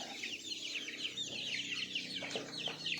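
Chickens cluck steadily in a shed they have just moved into, several birds overlapping in a busy, continuous chatter at close range with no talk.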